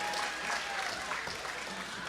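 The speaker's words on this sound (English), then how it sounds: "Big round of applause for all of our Thank you to all our sponsors" An audience at an evening charity culinary event applauds its sponsors, a brief, moderately distant wash of clapping with a few faint voices mixed in.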